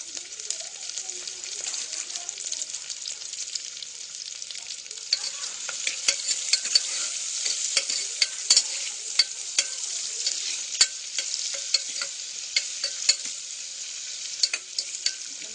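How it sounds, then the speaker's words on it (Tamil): Onions and chana dal sauté in hot oil after mustard seeds have popped, a steady bright sizzle with scattered crackles and clicks of stirring throughout, fairly close and alone. "அதில் வெங்காயத்தை போட்டுருங்க வெங்காயம் நல்லா வதங்கட்டும்"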